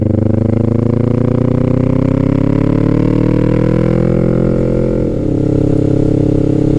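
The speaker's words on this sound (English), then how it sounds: "This one has an aftermarket exhaust on it, and I'm hoping my sound comes through okay because it is quite loud." A Kawasaki Z650 motorcycle with a loud aftermarket exhaust, deep and throaty, revving steadily with rising pitch, close and continuous.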